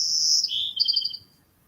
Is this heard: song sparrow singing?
yes